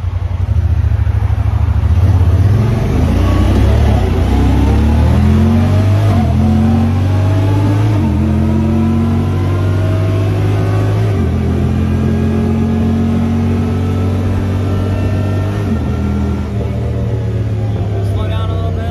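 A Honda Pioneer 1000-5 UTV accelerates in high range while towing, its engine note climbing and shifting through gears, loud and close, with a voice talking over it.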